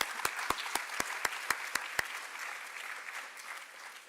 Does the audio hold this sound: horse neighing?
no